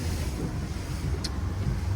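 A Quicksilver 705 Open motorboat engine hums low and steady at reduced speed, mixed with wind buffeting and water noise.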